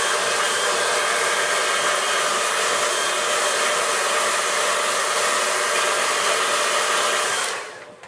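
A hair dryer blows steadily on a watercolour landscape painting, a loud, close, continuous whooshing roar that runs unbroken for several seconds, then winds down and cuts off near the end.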